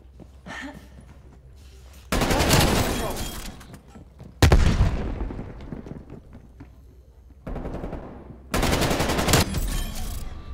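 Call of Duty Cold War gunfire in separate loud bursts of rapid shots from one gun, each burst cutting in sharply and ringing off in a booming tail before the next one starts.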